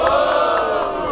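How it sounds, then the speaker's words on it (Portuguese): A crowd at a rap battle cheers and shouts loudly, a dense roar of whoops and yells that stays strong through the short burst. "Barulho para as rimas do Peixe."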